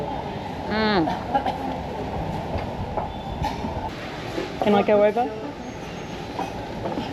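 A steady low rumble of a train on the tracks through a narrow Hanoi street, moderately distant, with people briefly talking over it.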